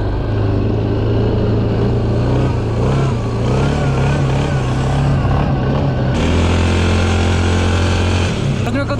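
A quad bike (ATV) engine runs steadily and loud throughout, with a constant low drone that drops in pitch partway through, amid other enduro motorcycles and scooters and with people talking over it.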